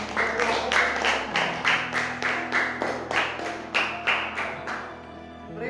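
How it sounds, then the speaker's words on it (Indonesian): A classroom of students claps together in steady rhythmic bursts, the sound close and fairly loud, with no one speaking, before it tapers off at the end. "bagus sekali, tepuk tangan"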